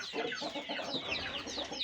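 A brood of young chicks cheeps continuously indoors on a floor strewn with chick feed and white marble dust, a dense, busy chorus of overlapping high peeps with no pauses.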